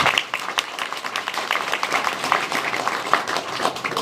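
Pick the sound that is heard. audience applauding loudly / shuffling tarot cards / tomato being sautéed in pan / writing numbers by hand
audience applauding loudly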